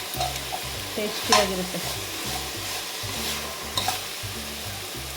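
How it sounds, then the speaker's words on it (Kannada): Food frying in oil in a pan for basale soppu (Malabar spinach) sambar gives a continuous close sizzle with rhythmic stirring scrapes. Someone speaks briefly over it. "ಇದು ಆಯಿಲ್ ಜೊತೆ ಈ ಥರ ನೀಟಾಗಿ ಫ್ರೈ ಆಗಬೇಕು"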